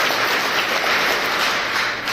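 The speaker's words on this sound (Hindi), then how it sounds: "जोरदार तालियां बजा करके।" Audience applause at a college function in India, a dense, steady wash of clapping that holds at an even level throughout.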